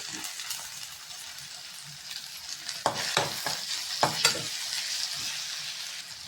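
Rava kichadi with tomato and vegetables is stirred in a frying pan: soft sizzling throughout, with a cluster of sharper spoon scrapes and clatters in the middle, close and fairly loud.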